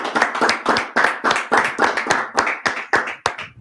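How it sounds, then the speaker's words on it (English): Group of brothers at a Tuesday brotherhood class clapping in a steady, rhythmic beat, about four claps per second, loud and close, with no talk over it. "Let's clap it up."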